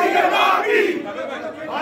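A crowd of angry party supporters shouts slogans at a party office, many voices yelling together loudly and close with rising and falling chants.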